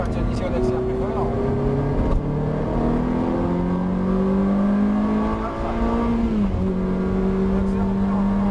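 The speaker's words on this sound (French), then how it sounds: "Allez, à partir d'ici, on accélère plus fort." A car accelerates hard on a driving circuit, the engine note climbing steadily through the gears with a loud, close, continuous drone, while a person talks over it.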